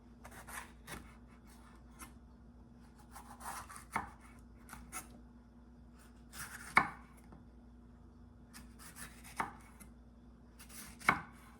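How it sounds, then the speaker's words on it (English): A knife slices through a sweet pepper laid flat on a cutting board with its stem removed. Soft cutting and rubbing noises are punctuated by several distinct, sharp chops spaced a few seconds apart, close and without talk. "if you take the stem off and lay it like this, it's so much easier to slice"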